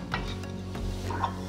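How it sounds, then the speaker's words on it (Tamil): Cumin and white sesame seeds dry-roasting in a pan, a soft continuous sizzle broken by light scraping and stirring strokes, close and fairly quiet. "எள்ளு நல்லா பொரிஞ்சு வர அளவுக்கு இதை நல்லா வறுத்துக்கோங்க."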